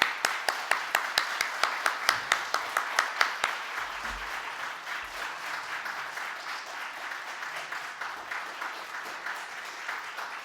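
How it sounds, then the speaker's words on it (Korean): Church congregation clapping to welcome two pastors onto the stage, opening with loud rhythmic unison claps that loosen into a steady, softer spread of applause. "우리 두 분 나오실 때 우리 큰 박수로 환영해 주시면 감사하겠습니다"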